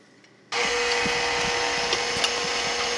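An electric mixer switches on abruptly and then whirs steadily and loudly while stirring a jello cake mixture, with faint knocks against the bowl beneath the hum.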